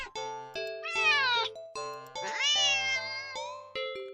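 In an indie horror game, a cat lets out a series of sharp, tonal meows, loud and close, with several rising and wavering cries in quick succession and no talking.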